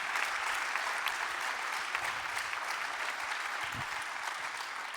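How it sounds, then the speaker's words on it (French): A crowd applauds a team at a professional careers event. Dense clapping holds steady from start to finish, fairly loud and close, with no voices over it. "il mérite des grands applaudissements"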